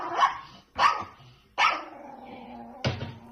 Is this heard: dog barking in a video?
yes